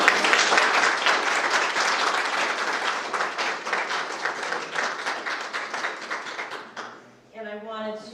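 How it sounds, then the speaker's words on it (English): Audience applause at a school student-of-the-month presentation, a sustained burst of clapping from a roomful of people that fades out near the end, followed by a voice beginning to speak. "How about another round of applause?"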